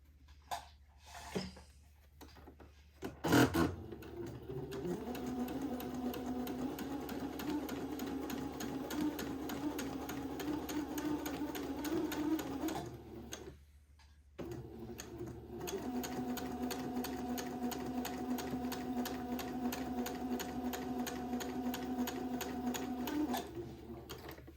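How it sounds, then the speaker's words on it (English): A sewing machine stitches a pleat into a baby's day dress, running in two steady, even bursts of fast rhythmic needle chatter separated by a brief pause, close and alone without talk. "And then sew a pleat."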